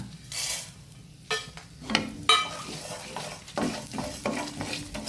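Coriander, cumin and fenugreek seeds frying in a pan for a coastal Karnataka pathrode dish, with a steady light sizzle under scraping and clinking stirring strokes of a spoon against the pan, close by and without talk.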